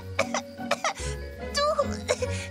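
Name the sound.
cough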